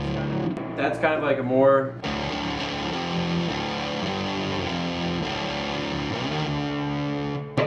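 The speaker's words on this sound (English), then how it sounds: "Straight up fuzz, pretty rockin' fuzz distortion tone." A voice speaks briefly, then a loud, thick fuzz-distorted electric guitar played through a Zvex Fuzz Factory pedal rings out in sustained, buzzing chords.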